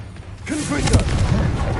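A Confringo blasting curse in a wizarding video game bursts loudly about halfway through, then rumbles and crackles as a fiery blast with a voice speaking over it.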